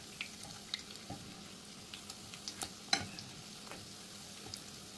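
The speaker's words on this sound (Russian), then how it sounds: "Жарим котлетки на небольшом огне." Fish roe patties fry gently in a pan over low heat, giving a soft continuous sizzle with scattered small pops and crackles, close and fairly quiet.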